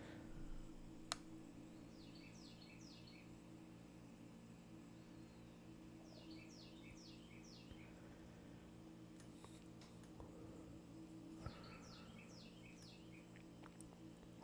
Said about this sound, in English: you guys hear those birds again?